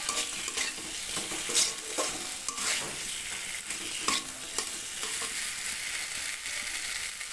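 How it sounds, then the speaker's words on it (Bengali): Pre-fried potatoes being stirred into a frying masala, a continuous sizzle with repeated scraping and clinking spoon strokes against the pan, close and moderately loud, no talking. "ভেজে রাখা আলুটা দিয়ে দিচ্ছি আলুর সঙ্গে মশলাটা ভালো করে মিশিয়ে নিচ্ছি"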